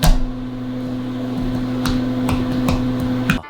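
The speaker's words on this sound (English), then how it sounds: "Then I'll microwave it for 2 minutes" A microwave oven heating a bowl of oatmeal hums steadily and loudly up close, with a few faint clicks and a final beep-like stop near the end.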